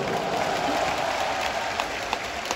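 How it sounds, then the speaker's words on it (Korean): Concert audience at a Lotte family concert applauds steadily, a dense, sustained patter of many hands filling the hall with a few sharper claps standing out, and no voices over it. "여러분 박수 한번 보내주십시오"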